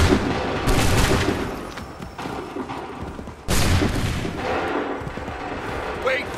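A volley of musket fire in Assassin's Creed 3 erupts as a loud, dense roaring burst, followed a few seconds later by a second massed volley, with rumbling battle noise and shouting voices throughout.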